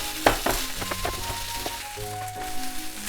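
Soy sauce sizzling in a pan of chicken fried rice, close crackling and hissing with sharp pops and scraping stirs, short and lively.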